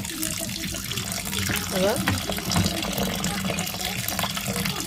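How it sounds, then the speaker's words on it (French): Hot tap water pours steadily over cut meat in a container, a continuous splashing rush with a brief gurgle partway through, while a person speaks briefly over it. "Donc ma viande elle est coupée, elle est en train de s'échauder sous l'eau chaude."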